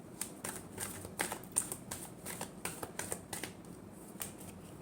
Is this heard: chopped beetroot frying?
no